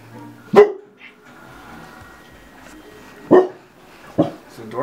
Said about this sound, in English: George barking, huh?